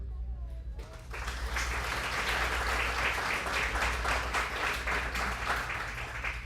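Steady applause from a sizable crowd at a photo competition event fills the room after a brief spoken word, continuing evenly without pause.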